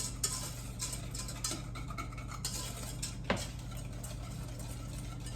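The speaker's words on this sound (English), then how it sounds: "You want to keep mixing this and stirring until it sticks to the back of your spoon or my whisk here." A whisk stirs a bread pudding mixture in a bowl, giving steady scraping and light clinking strokes close by, with a few sharper taps against the side, quiet and continuous with no talk.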